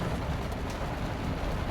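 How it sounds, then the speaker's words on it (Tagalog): Heavy rain pours down in a steady, even wash of sound, moderately loud and continuous, with no voices over it. "bumubuhos yung ulan."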